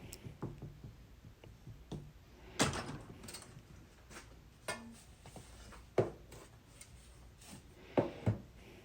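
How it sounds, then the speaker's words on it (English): Foundry sand is rammed hard into a homemade flask with a peen rammer, giving a series of irregular dull thumps and knocks, some louder than others, spread across the clip with quiet gaps between them, close by and with no talk. "Go with that peen and go nice and hard."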